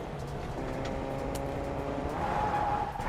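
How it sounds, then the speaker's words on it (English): A car driving in Fortnite during a competitive match, its engine hum steady and fairly loud with faint tire skid noise, heard alone without talk. "they deliberately stopped early, so they don't hear the car"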